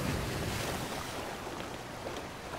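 Ocean waves rush around a sailing ship at sea in the pirate video game Sea of Thieves, a loud, continuous wash of surf with wind noise and no talking.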